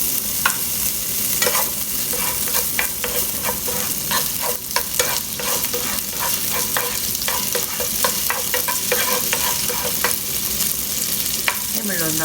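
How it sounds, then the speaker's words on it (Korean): Ham sizzles in a hot pan, a dense, even frying hiss with scattered pops and stirring scrapes, loud and close with no voices. "여기다 부재료 넣는 거를 이렇게 달궈졌을 때 먼저 제가 햄을 넣겠습니다"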